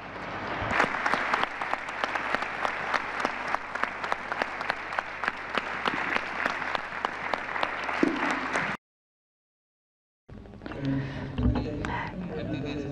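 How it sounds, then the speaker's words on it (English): Audience applause at a leadership and transition meeting, dense sustained clapping for about nine seconds, then a brief silence before softer room sound and voices resume. "A big round of applause for the three of them."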